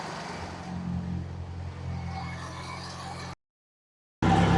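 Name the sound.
Jeep Comanche MJ engine idling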